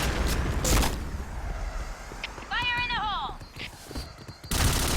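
Gunfire and explosions in a Point Blank competitive match, sharp bursts of shots and booms in a busy mix, with a rising electronic tone midway and an excited commentator talking over it.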